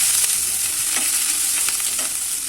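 Spice masala with salt, sugar and turmeric fries in a pan for cabbage paratha filling, a continuous close sizzle broken by a few soft stirring scrapes.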